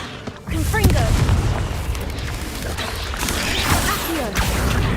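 A Confringo explosion spell in the Hogwarts Legacy video game, heard as a loud sudden boom followed by rumbling crashes and debris, with game voices and chatter layered over the blast.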